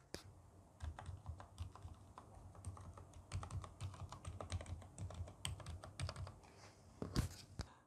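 Fast, continuous typing on a Durgod K610W/K620W Corona mechanical keyboard with smooth, quiet switches, a dense patter of soft close-up keystrokes with a few louder clacks near the end.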